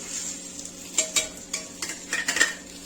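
Thalipeeth made from rice flour and besan fries in oil with turmeric in a pan, a low sizzle broken by several sharp scrapes and clinks of a spatula against the pan.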